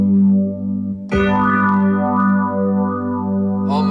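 A Yamaha Genos/Tyros keyboard plays its TX Mellow voice with a phaser effect, sustained chords swirling with a sweeping, wah-like shimmer that brightens as a new chord enters midway.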